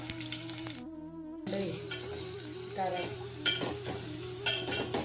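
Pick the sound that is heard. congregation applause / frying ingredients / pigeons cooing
frying ingredients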